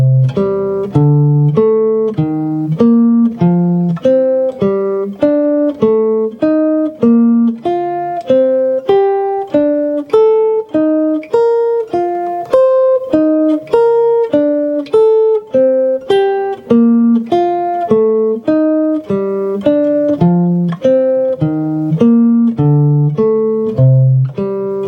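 A scale exercise in skips of fifths is played at a brisk, even pace, a long continuous run of distinct plucked notes moving up and down in steady rhythm, close and loud with no voice over it.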